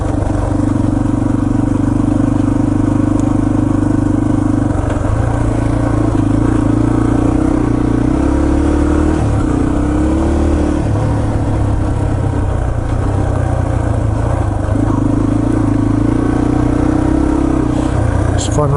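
Yamaha TT-R230 dirt bike ridden slowly along an overgrown summer trail, weaving between puddles, its engine droning steadily with small rises and dips in pitch as throttle changes, heard from the rider's position throughout.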